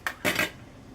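A metal lid clinks onto a cooking pot of green garbanzo bean curry: a light tap followed by a slightly longer rattling clank as it settles, close and fairly quiet.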